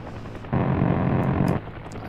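A UH-1 helicopter in the combat game Heliborne passes close, a loud one-second burst of rotor and engine noise rising abruptly over quieter battle ambience and then dropping away.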